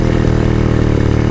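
A Poulan Wild Thing chainsaw idles after carburetor tuning, its small two-stroke engine running loud and close with a steady, slightly rough burble.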